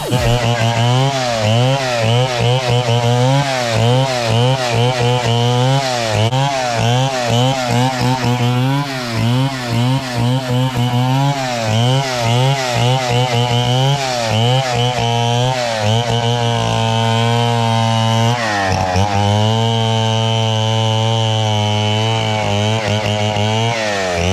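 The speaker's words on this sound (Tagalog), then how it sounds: "umandar na yung pamputol ng ng puno. Kaya medyo maingay." A chainsaw roars loudly and continuously, its engine pitch rising and falling as it cuts a tree in a rural province, close by with no pauses.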